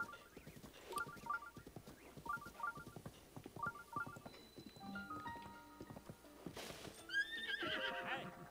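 Horses at a stable in Zelda: Breath of the Wild whinny in repeated short bursts over clip-clopping hooves, followed by bright chiming game tones, fairly loud and without talk.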